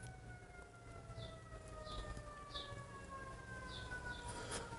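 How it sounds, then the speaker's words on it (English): Faint sirens wail in the distance, their tones slowly sliding, with several short chirps over a low background hum. "We're getting lots of sirens today."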